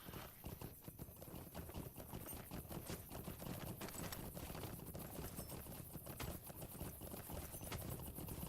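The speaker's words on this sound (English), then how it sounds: "There's that horsey." Steady clip-clop of horse hooves in a video game, a continuous rhythmic trotting at moderate distance with faint background ambience and no talk.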